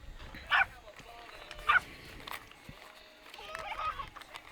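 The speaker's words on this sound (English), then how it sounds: "Never been heckled by a dog before" A dog at an amateur baseball game gives two short, sharp barks a second apart, heard at a moderate distance over faint crowd ambience and background talk.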